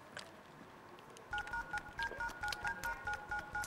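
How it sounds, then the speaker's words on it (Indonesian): A telephone keypad dials a number: a steady run of short two-tone beeps, about a dozen in an even rhythm, clear and close, following a brief stretch of faint background noise with no talking. "Gue telepon dulu ya."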